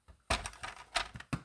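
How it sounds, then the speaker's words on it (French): A paper trimmer makes a few sharp crunching cuts through paper in quick succession, close and fairly quiet, with brief rustling between strokes. "On reprend notre coupe-papier."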